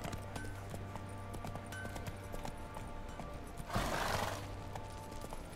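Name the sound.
horse hooves clip-clopping as it is ridden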